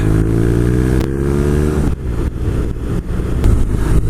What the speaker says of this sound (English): You've got to get your revs up to actually set off on the bike.